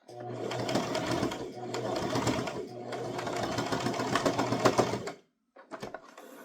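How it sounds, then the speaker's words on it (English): A sewing machine runs in steady bursts, top-stitching a toddler crossbody purse shut, its rapid mechanical chatter close and continuous for about five seconds before stopping, followed by a few brief clicks. "You just want to sew that shut."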